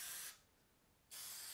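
Baking release spray hisses from an aerosol can into a muffin pan in two steady bursts, a short pause between them, close and fairly quiet.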